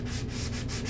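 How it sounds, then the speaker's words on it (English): Quick sanding strokes on painted wooden farmhouse wall decor to knock off the sheen, a steady close scratchy rub with a few brief pauses in rhythm, no talking. "Just give it a quick little sanding."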